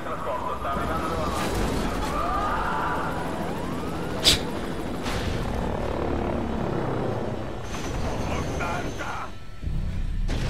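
Helicopter in the Prototype 2 video game, a steady rotor drone running throughout with sirens and other game effects layered over it.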